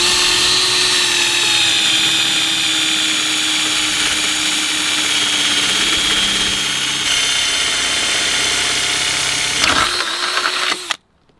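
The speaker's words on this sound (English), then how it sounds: "so we're gonna drill the next, like, what, 8 holes or something?" Power drill boring holes during a Hard Dog roll bar install, a steady loud whirring drone running unbroken for about ten seconds before stopping abruptly.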